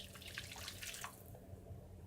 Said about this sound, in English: So we get some more water from our kettle.